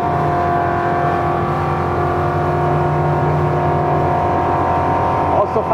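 A SUPERRIB Open 27 rigid inflatable motorboat runs at 45 knots, its engine a steady, loud, sustained drone with constant pitch, mixed with rushing wind and water noise throughout.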